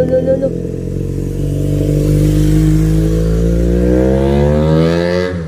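A motorcycle engine sounds loud and close, its pitch climbing steadily as it revs up over several seconds, then dropping off abruptly at the end.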